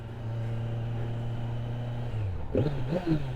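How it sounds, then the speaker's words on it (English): A steady Kawasaki Z900 motorcycle engine drone with a low, even exhaust note that shifts and rises near the end, heard close as the bike rides along. "The first thing I notice while I'm riding it is the exhaust tone."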